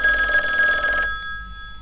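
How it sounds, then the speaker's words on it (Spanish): A telephone rings indoors in a room, a bright repeating electronic bell trill for about a second, then stops, leaving faint steady tones and quiet room noise. "Cuando de repente suena el teléfono."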